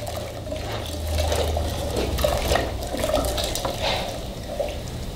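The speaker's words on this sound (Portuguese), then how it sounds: "Vou colocar 1 litro de leite." A liter of milk is poured into a pot for chocolate canjica, a continuous splashing liquid stream with a low hum beneath it, steady and close throughout.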